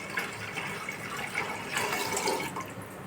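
Water pours steadily into a cooking pot for egg biryani rice, a continuous rushing splash with faint gurgling throughout and no voices.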